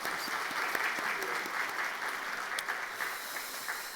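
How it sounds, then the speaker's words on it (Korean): A church congregation at a Christmas service applauds a group of retired elders: a dense, continuous wash of many hands clapping at a steady level throughout, with no voices on top. "박수 한번 해주십시오"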